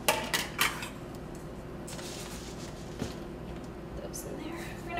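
Dry oats measured out and poured into a mixing bowl for no-bake protein bars, giving a few quick clinks and light rattles at the start, followed by softer shuffling under nearby talk.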